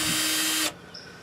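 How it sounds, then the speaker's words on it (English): A power drill fitted with a 5/16 inch driver bit whirs steadily for about two-thirds of a second while loosening no-hub pipe couplings on a sump pump line, then stops abruptly, leaving quiet room tone. "with your handy dandy drill and your 5/16 inch driver bit, what we're going to do is unscrew these no hubs"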